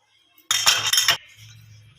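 A short burst of clinking and scraping as potatoes are mixed with garlic, salt and spice mix in a bowl, followed by a faint low hum.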